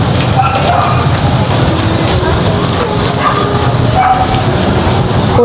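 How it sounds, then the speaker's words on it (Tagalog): Heavy rain pours steadily outdoors in the Philippines, a dense, constant hiss that fills the whole stretch at close range with no break. "Walang tigil dito ang ulan."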